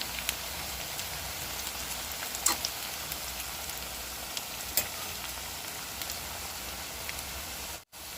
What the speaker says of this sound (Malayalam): നല്ല ക്രിസ്പായിട്ടാകുന്നത് വരെ നമുക്ക് ഇത് വറുത്തെടുക്കണം.